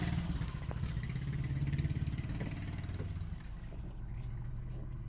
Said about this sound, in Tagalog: Ayan, nangatal yung makina.